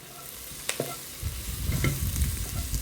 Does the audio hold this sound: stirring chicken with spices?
yes